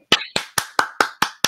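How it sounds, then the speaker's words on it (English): Seven sharp, evenly spaced hand claps from a single person, close and crisp, a quick steady rhythm cheering on a cross country team, alone without talk. "Clap it up for the cross country team."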